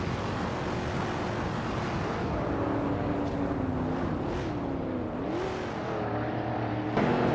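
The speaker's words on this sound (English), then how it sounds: "Connor Mality is driving a 1973 Lancia Stratos, a classic rally legend." A 1973 Lancia Stratos rally car in a racing video game, its engine droning steadily with pitch rising and dipping through gear changes, loud and continuous with no talking.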